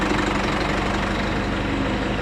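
A tractor engine idles on a farm during spring calving, a loud, steady diesel drone with a low throbbing rhythm running continuously and close by, with no talking.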